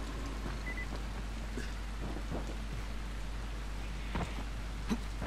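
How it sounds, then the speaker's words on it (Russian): Steady rainfall in the Dying Light video game, a continuous hiss of drops with a few soft patters and distant rumbles, a constant low background texture with no talking. "О, дождь."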